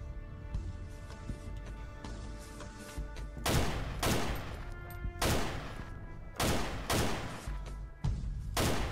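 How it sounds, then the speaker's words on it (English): Gunfire in the ARMA 2 DayZ game: a series of loud, sharp shot bursts ringing out in clusters over a steady background, some spaced a second apart, with no talk. "I'm firing at the Ravenhood."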